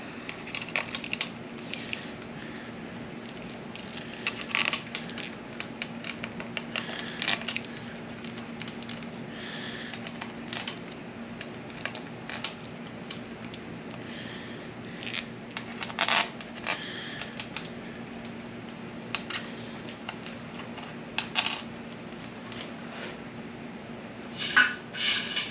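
Metal pump bolts from an A440F automatic transmission rebuild clink and rattle as they are handled, a steady run of small, close metallic taps and jingles over a low hum, with no talking.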